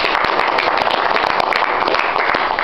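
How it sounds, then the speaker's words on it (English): An audience at a medal presentation gives a round of applause, with steady, fairly loud clapping from many hands and a few sharper individual claps that continue throughout. "So we get another round of applause for that."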